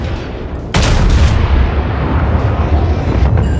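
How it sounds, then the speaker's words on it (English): Warship secondary guns firing in a naval combat video game, a sudden loud burst of heavy booming gunfire that continues as a dense, rumbling barrage. "his secondary guns are opening up on me"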